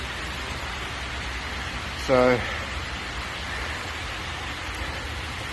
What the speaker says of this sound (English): And now, as you can see, it's just bucketing down.